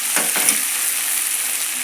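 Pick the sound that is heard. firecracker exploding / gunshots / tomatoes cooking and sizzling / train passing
tomatoes cooking and sizzling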